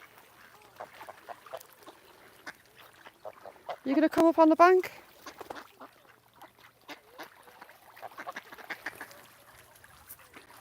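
Ducks bathe on Talkin Tarn and let out a short, loud burst of rapid quacking midway through. Quieter splashes and calls surround it, and a person speaks nearby.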